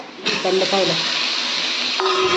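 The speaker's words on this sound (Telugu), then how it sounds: "ఇలా ఆనియన్స్ బాగా వేగాయి కదండి" Onions sizzling in a pan, a steady broad hiss with brief voice-like tones near the start and a shift around two seconds.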